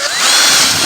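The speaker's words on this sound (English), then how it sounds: "And then we're going to drill it here." A power drill bores into a 1994 Chevy K1500 truck bumper, a loud, steady high-pitched whine held close up and alone for just under a second.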